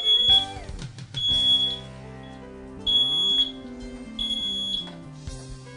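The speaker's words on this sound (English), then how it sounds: "simply press both buttons on the sides of the monitor simultaneously to silence the alarm" A Micro-Tech Informer bed pad monitor alarm gives four short bursts of high, piercing electronic beeping at regular intervals over soft background music.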